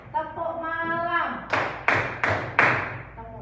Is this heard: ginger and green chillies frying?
no